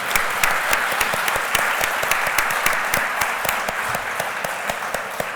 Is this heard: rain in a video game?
no